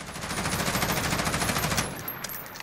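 A Colt Canada C8 rifle in Call of Duty Modern Warfare fires a fast, steady full-auto burst at a wall for about two seconds, loud and close, then stops.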